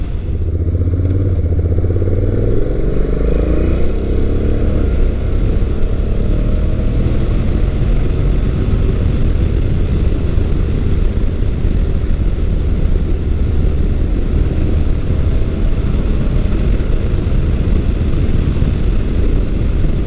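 Honda NC700X DCT adventure motorcycle engine under way, a steady loud low drone with rising and falling tones as it shifts through gears, continuous throughout with heavy wind rush and no talk.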